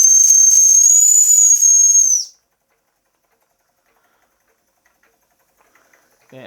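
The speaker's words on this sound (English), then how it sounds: "The safety valve's blowing off fairly early, so let's lose a bit of pressure." A model steam engine's safety valve blows off with a loud, steady high-pitched whistling hiss for about two seconds, then cuts off abruptly, leaving near silence.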